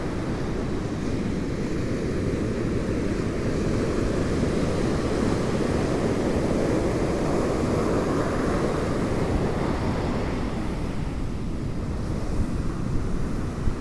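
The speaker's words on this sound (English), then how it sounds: "stay out there, wave." Atlantic Ocean surf at Smith Point rolls in as a steady, broad roar of breaking waves, mixed with wind buffeting the microphone, continuous and without voices.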